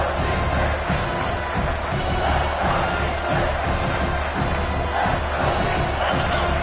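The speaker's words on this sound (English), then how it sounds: "This crowd is trying to inspire this defense to make a big red zone stop." Loud, dense stadium crowd roaring and cheering at a football playoff game as the home defense faces a third-down red zone play, a steady wall of noise with rhythmic thumps and swells throughout.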